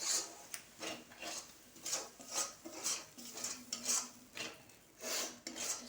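Meat with tomato and a splash of water being sautéed and stirred in a pan, a spatula scraping the metal in a steady series of rasping strokes, close and fairly quiet.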